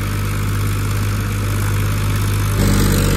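A tractor stuck in soft ground runs its engine hard in a loud, steady, low drone that rises slightly near the end as it strains, with no talk.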